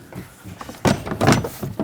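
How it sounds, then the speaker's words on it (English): A plastic rear door panel is slid up and over the top of a 2012-2017 Toyota Camry rear door, giving a few close scraping, sliding rubs with brief pauses between them. "you want to slide the door panel up and over the door here at the top."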